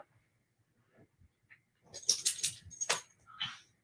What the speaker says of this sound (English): I just told you to move from over here, dog.